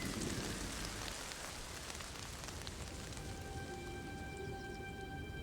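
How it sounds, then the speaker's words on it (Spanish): Heavy raindrops pelt down during a storm, a steady, dense patter that stays even and fairly faint throughout with no voices over it. "Las tormentas producen vientos desapacibles y descargan sobre las mariposas gruesas gotas de lluvia."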